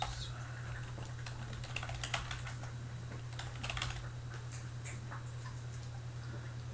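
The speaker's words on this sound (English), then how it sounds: "Type in the agent's email address." Rapid, irregular keystrokes on a computer keyboard as an email address is typed, fairly close and clear over a steady low electrical hum, with no voices.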